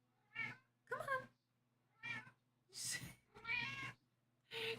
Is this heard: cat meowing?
yes